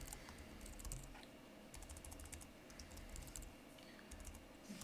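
Fast, uneven typing on a computer keyboard while coding in Rust, a quiet clatter of keystrokes in bursts with brief pauses, heard close and alone.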